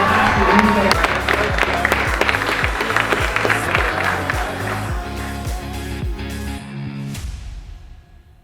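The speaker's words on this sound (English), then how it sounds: "I just want one more round of applause for everybody that came out today" A crowd claps and cheers for competitors at an indoor skydiving championship in a wind tunnel facility, loud applause under steady rhythmic thumping music, fading out near the end.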